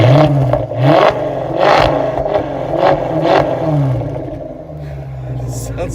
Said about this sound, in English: I think he's gonna rev it up for us a little bit.